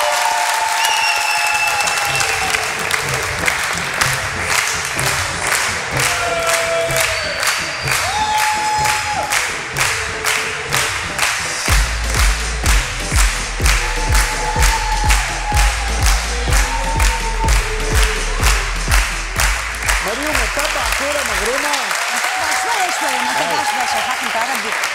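A large crowd applauds and cheers for Tunisia in a loud, sustained ovation, with whistles and shouts rising over rhythmic clapping and a thumping beat entering partway through.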